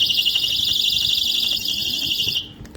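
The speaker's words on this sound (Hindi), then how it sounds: "ले जी इमरजेंसी सायरन, ये लेडीज के लिए, जेंट्स के लिए" A handheld personal attack alarm shrieks with a loud, steady high-pitched electronic siren tone that runs continuously and cuts off abruptly near the end.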